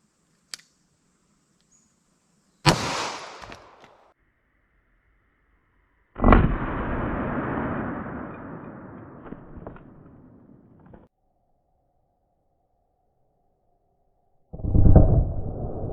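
Three .40 caliber pistol shots with 180 grain bullets fired during a ballistic gel test, each a sharp loud crack with a brief decaying tail. The shots are spaced several seconds apart with silence between them.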